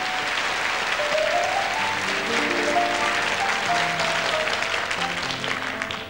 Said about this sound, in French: Mademoiselle Cynthia, sous vos applaudissements, je vous prie.